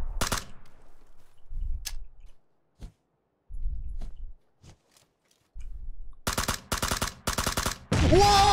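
Video game gunfire on a new map: scattered sharp shots early, then a rapid burst of loud, close automatic fire near the end, with quiet gaps between.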